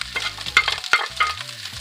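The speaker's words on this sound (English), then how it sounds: "And let's stir the rice." Egg fried rice with Filipino soy sauce being stirred in a pan over lowered heat, with close scraping and tossing strokes over a soft sizzle, loud and uneven through the short stretch.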